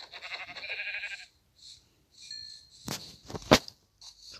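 A Minecraft sheep bleats in a drawn-out, wavering call, then a couple of shorter bleats follow between sharp clicks and quiet gaps.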